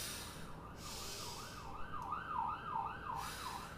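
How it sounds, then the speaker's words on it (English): An emergency siren wails faintly in the distance, its tone sweeping up and down in repeating cycles over a low steady background hum. "You hear that siren in the back?"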